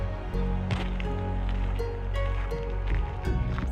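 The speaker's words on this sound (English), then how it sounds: "Starting to hear the waterfall." A forest waterfall on Vancouver Island sends up a steady, broad rushing wash that fills the background, with occasional nearby thuds and rustles over it.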